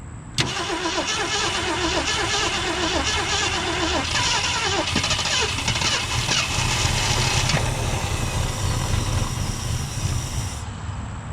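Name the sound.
car engine starting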